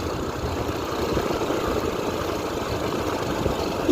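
A Yamaha XTZ motorcycle with its air filter removed and a modified exhaust idles steadily, a continuous rough, throaty engine rumble at close range with no talk.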